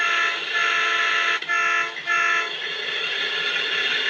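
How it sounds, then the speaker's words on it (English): A steady electronic crossing whistle tone from a Soundtraxx Sierra sound board in a PIKO model railbus, sounding continuously with two brief dips, then holding on; a small toy-like horn rather than a real locomotive. "I can do the whistle, which is a crossing whistle"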